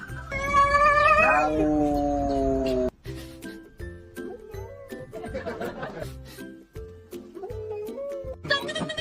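A kitten lets out a loud, drawn-out meow, followed by several shorter, softer meows and light rustling close by, with a brief burst of other voices near the end.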